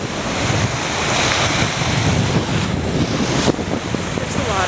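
Waves washing onto a Gulf shoreline strewn with shells and tar, a loud continuous roar of surf with heavy wind buffeting the microphone and no voices.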